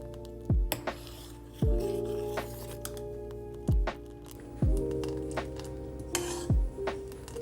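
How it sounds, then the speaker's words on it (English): Metal spoon scraping and clinking in a pan while thandai spice concentrate is stirred over gentle heat, with about five sharp knocks at irregular intervals over a steady low hum. "Stir it all well to incorporate."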